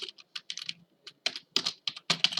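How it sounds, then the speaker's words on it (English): Rapid bursts of typing on a computer keyboard while setting a power plan in Windows 10, close and crisp, with short pauses between clusters of keystrokes and no talking. "You wanna type in here"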